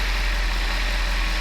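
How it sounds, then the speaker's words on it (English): A Mercedes 500E W124 V8 at 152,000 miles runs steadily just after starting, a loud, even, close idle hum with a constant low drone and no talk. "You can hear the engine adjust rich and lean, rich and lean."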